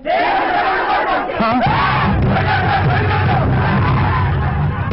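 An angry crowd of townspeople shouts and roars outside a police station, a dense, continuous wall of loud massed yelling and babble that never lets up.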